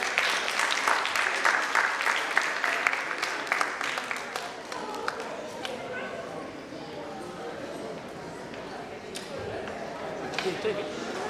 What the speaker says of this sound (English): Let's please welcome him with a huge round of applause